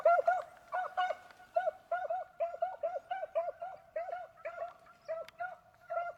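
Beagles on a rabbit chase bay steadily at a distance, a pack of repeated yelping howls overlapping in a fast, uneven rhythm throughout.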